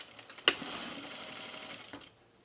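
A sewing machine stitches a hem on a pullover camp dress, a sharp click opening a short quiet whirring run that fades out.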